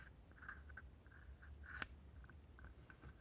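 Scissors cut through Corvair interior material in a quiet space, giving a few soft scraping snips and one sharp clipping snap, with faint noise in between.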